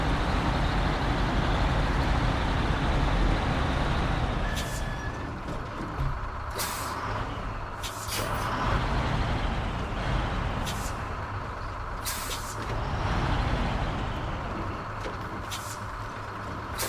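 A truck in SnowRunner with a rumbling engine and repeated sharp hissing air-brake releases, several bursts spaced through a continuous low drone, no talk.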